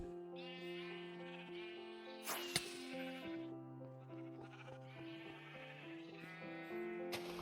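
Sheep in a Minecraft wool farm bleat repeatedly in overlapping, wavering calls, fairly close and steady throughout with no talking.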